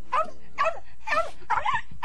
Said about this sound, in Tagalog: Ano ba yung aso na yan?